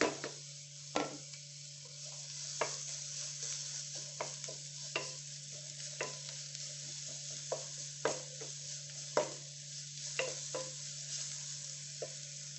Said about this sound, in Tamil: பிங்கிஷ் ஆகிற வரைக்கும் வணக்கி விட்டுடலாம்.